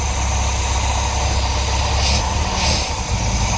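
A 1978 MGB Roadster engine idles with the choke still pulled out, a steady, close, rough-textured hum holding even throughout with no talk.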